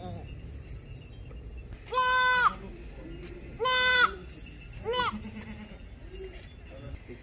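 A goat in labor bleats three times, drawn-out wavering cries spaced a couple of seconds apart, loud and close over low background murmur and rustle.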